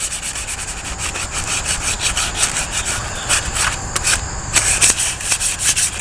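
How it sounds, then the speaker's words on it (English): Sandpaper lightly works over a wooden ditch axe handle in steady back-and-forth strokes, a close, even scratchy rubbing that runs continuously throughout. "Just real light sanding is all you have to do"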